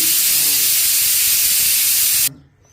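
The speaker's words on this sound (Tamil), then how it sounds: "பூண்டு பல் இது மிக்சியில் போட்டு பொடி" A kitchen mixer grinder grinds garlic cloves for a tomato water chutney, giving a loud, constant whirring rush that stops abruptly near the end and leaves a brief fading tail.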